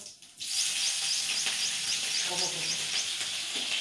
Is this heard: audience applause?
no